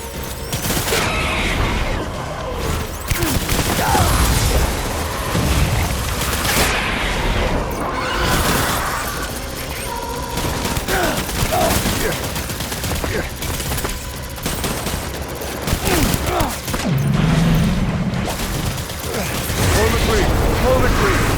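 Gunfire in the Death Stranding Director's Cut game: dense, busy bursts of shots and mechanical clatter throughout a long battle stretch, with voices and in-game sounds mixed in.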